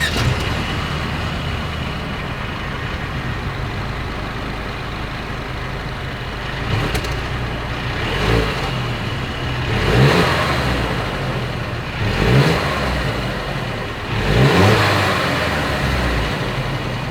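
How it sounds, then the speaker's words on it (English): A 2022 Mercedes-Benz GLC 300 Coupe exhaust idles with a steady low hum, then gives several short revs spaced a couple of seconds apart, each rising and falling back, recorded close with no talk. "As always, here is that exhaust clip."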